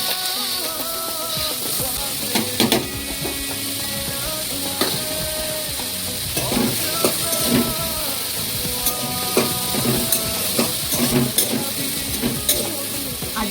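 Food fries and sizzles steadily in a pan during home cooking, with a constant hiss and occasional clinks and scrapes of stirring, close and without talk.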